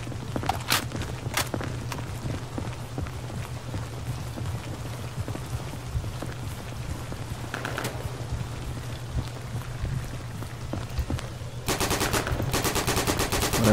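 Thompson submachine gun bursts in Day of Infamy, in a co-op match, firing in short, sharp repeated bursts over a steady background hum, with a denser, louder run of rapid shots near the end.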